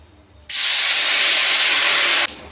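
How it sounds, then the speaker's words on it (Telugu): Cauliflower pieces dropped into hot oil for deep frying, a sudden loud bubbling hiss that holds steady for almost two seconds and then cuts off. "ఇప్పుడైతే కలిపి పెట్టుకున్న తర్వాత మళ్ళీ ఒకసారి ఇలా కలుపుకొని ఇప్పుడైతే ఆయిల్లో ఫ్రై చేసుకునేద్దాము"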